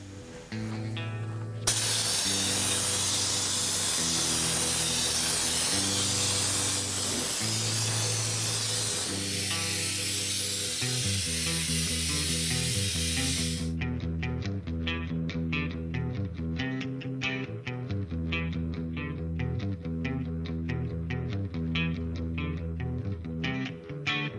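A spray gun at 70 PSI, nozzle set two turns out, lays down thick LizardSkin insulation coating on a 1965 Mustang Fastback, a steady loud hiss running continuously with a rhythmic mechanical pattern beneath it.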